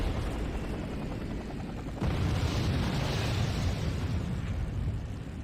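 Explosions from an enemy air raid in the Act of War real-time strategy game rumble continuously, loud and dense, with the blasts swelling heavier about halfway through.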